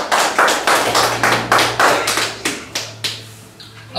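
A church congregation claps together in a steady, loud unison rhythm, roughly two claps per second, with a low hum underneath and no voices.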